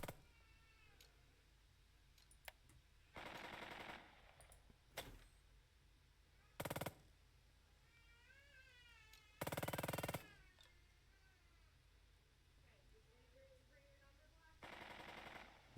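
Machine gun fire in the tactical World War II video game Burden of Command, several loud, sharp bursts of rapid shots spread between quieter game sounds and a faint meowing cat.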